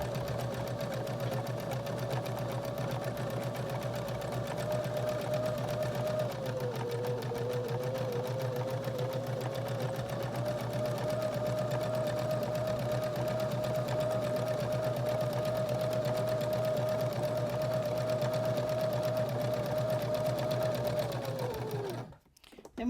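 A sewing machine stitches along the edge of upcycled shirt fabric. Its motor hums steadily and evenly for about twenty seconds, with a slight dip in pitch partway through, then winds down and stops near the end.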